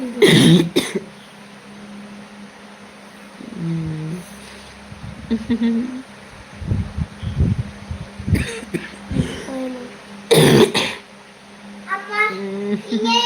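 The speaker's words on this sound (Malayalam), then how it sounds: "സോറി കേട്ടോ ചുമയുണ്ട്" Several harsh coughs and throat clearing come in bursts, close and loud, with a person talking quietly between them.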